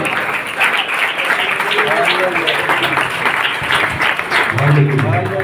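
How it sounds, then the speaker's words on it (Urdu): Loud applause from a church congregation welcoming a pastor, dense and continuous, with voices calling out over the clapping. "زوردار تالیاں"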